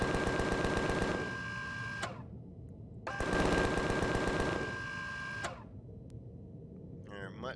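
Automatic gunfire rattles in fast, even bursts while shooting creatures in Empyrion Galactic Survival. Two long volleys, each lasting a second or two, are separated by short pauses, and someone talks under them.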